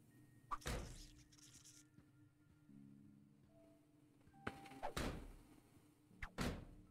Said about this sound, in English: I'm going to leave that top drawer open.